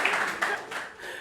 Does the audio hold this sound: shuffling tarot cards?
no